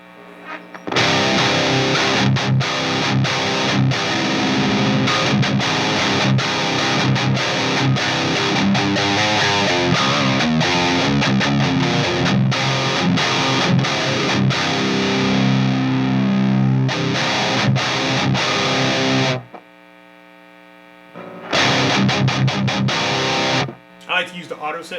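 A KSR Ceres guitar amp, heavily distorted, being captured by a Neural DSP Quad Cortex: loud, dense riffing with chugging chords and sustained notes for about twenty seconds, a brief gap, then another short burst.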